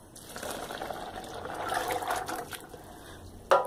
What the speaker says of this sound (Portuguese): vou colocar os 500 ml de água